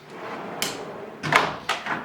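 A drawer of a FACOM tool chest from an Expert Tool Store CK5 general tool kit slides open, giving a few brief rattling scrapes and clunks, close and moderately loud, with no talk.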